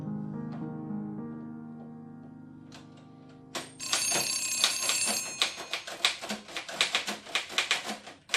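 An old-style telephone bell rings loudly after a steady sustained tone. The bright metallic ringing repeats in quick bursts that clatter on until the end, with no speech.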